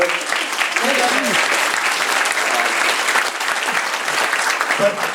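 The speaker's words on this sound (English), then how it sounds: "let's have a round of applause for really the organizer for this, Meredith" A lecture audience gives dense, sustained applause for the event organizer, a steady roar of many hands clapping at close range with faint voices mixed in.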